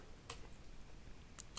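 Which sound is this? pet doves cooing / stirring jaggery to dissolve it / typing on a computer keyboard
typing on a computer keyboard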